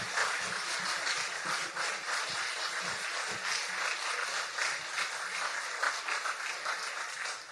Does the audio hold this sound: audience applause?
yes